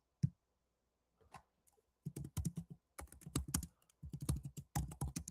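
Fingers type a search query on a computer keyboard, a quick run of crisp key clicks in bursts with brief pauses, close and clear with no talking.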